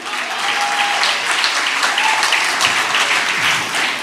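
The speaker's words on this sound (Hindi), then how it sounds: "जोरदार तालियों से इस्तकबाल कीजिए साहब।" Steady, dense audience applause welcoming a poet at a shayari recitation event, sustained clapping throughout at fairly loud level, with a faint voice briefly audible underneath.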